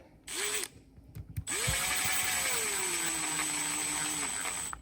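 A power driver runs a screw into an RC crawler suspension link, its motor whining steadily and rising then settling in pitch for about three seconds after a brief first burst, close and loud.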